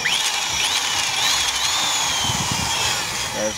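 A power drill runs continuously and loudly, its whining pitch shifting as a 6.5 bit bites into a metal engine bolt.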